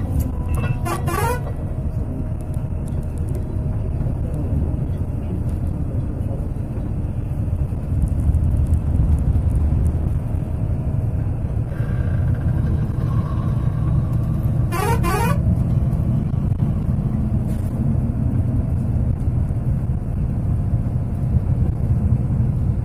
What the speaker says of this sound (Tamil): ஸோ ஹோசூரை நோக்கி ஸ்பீடாக வண்டி ஸ்டார்ட் ஆக ஆரம்பிச்சுது.